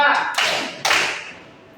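Two bursts of rhythmic hand clapping by a class, each a quick flurry of claps that trails off, with a voice speaking faintly underneath.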